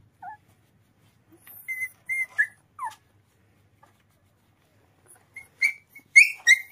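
A small abandoned roadside puppy infested with ticks whimpers in thin, high, close cries, a few at the start and a louder cluster near the end, separated by near-silence.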